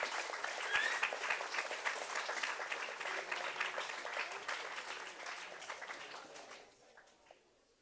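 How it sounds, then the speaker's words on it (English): Audience applause for a debate panel at a youth conference, steady moderate clapping from a crowd that gradually thins and fades away over several seconds. "please do give a warm round of applause to our panel"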